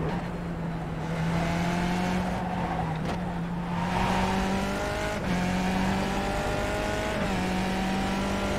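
A Skip Barber race car in iRacing at Mount Panorama roars steadily, its engine note stepping down through repeated downshifts as it brakes, with pitch sweeps rising and falling throughout and no talk.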